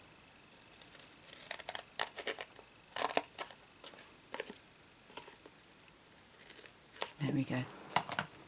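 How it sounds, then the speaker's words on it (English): Scissors cut through card stock in short bursts of snipping and crisp paper sounds, close and fairly quiet, with pauses between cuts. "I'm going to cut a third piece"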